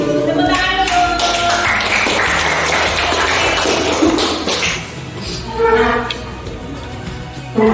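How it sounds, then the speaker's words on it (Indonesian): Students in a classroom clap their hands together, a fairly loud, sustained patter of many hands that is mixed with ringing tonal sounds and dips briefly before picking up again. "Tepuk tangan dulu."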